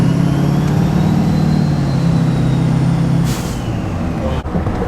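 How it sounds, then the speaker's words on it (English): A loud Duramax diesel truck engine with a compound turbo kit rumbles steadily, then a sharp hiss of released air from a blow-off valve, followed by a brief click. "You hear that blow-off valve, Matt?"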